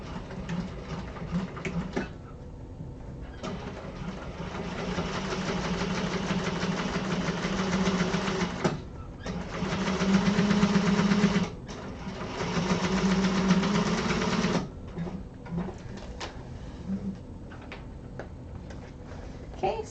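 A sewing machine running in bursts while stitching across fabric during a sewing class: a mechanical whirring hum with rapid ticking, several runs of a few seconds separated by brief pauses, close and fairly loud with no voices.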